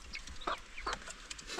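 Chickens kept in a yard clucking close by, several short throaty clucks and calls in quick irregular succession with faint background noise.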